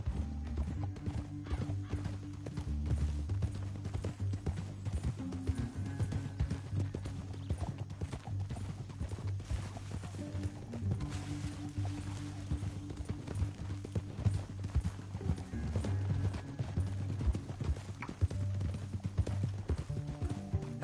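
Steady clip-clop of horse hooves trotting in a continuous rhythm in the video game Red Dead Redemption 2, over a low sustained musical drone, with a brief whinny partway through.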